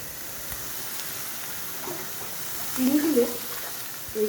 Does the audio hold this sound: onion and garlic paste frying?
yes